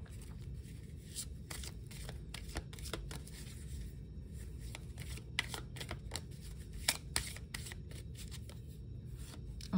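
Angel oracle cards are shuffled by hand in a quiet room, a continuous soft riffling with repeated crisp card flicks and slaps at an irregular rhythm throughout, with no talking.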